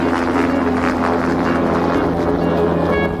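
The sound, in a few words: helicopter flying overhead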